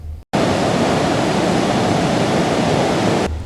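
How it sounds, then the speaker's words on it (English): Victoria Falls on the Zambia–Zimbabwe border makes a dense, steady roar of rushing water that fills the whole stretch at constant loudness. "Victoria Falls is undoubtedly the biggest waterfall in the world"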